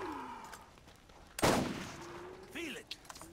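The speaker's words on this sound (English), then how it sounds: "Oh, it doesn't matter about the fire rate and the sniper rifle." A single loud sniper rifle shot in Borderlands, a sharp blast midway followed by a decaying tail, set against quiet game ambience and a few faint tones.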